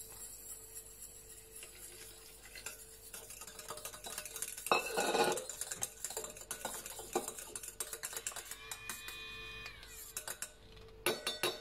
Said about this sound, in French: je vais commencer au fouet à main